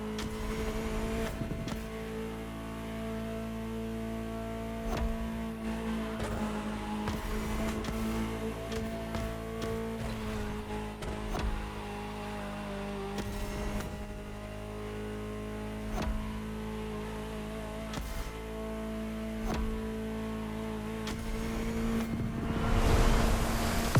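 A Ferrari driven in the racing game The Crew Motorfest, its engine a steady, close drone with shifting tones and brief surges, running without pause through the whole stretch.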